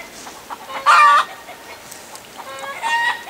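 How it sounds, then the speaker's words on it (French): Hens clucking in a vegetable garden in February, a close, loud burst of squawking clucks followed by softer, quicker clucks, with no talk over them. "Bon, ces poules quand elles auront fini."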